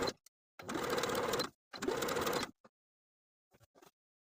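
A sewing machine stitches binding onto a garment neckline in two close bursts of rapid mechanical whirring, each about a second long, separated by short pauses and followed by a few faint clicks.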